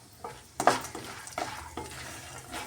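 Peanuts and roasted gram with curry leaves frying in a pan, with a soft steady sizzle and several sharp spoon-scraping stirs, the loudest near the start, close and fairly quiet with no voices.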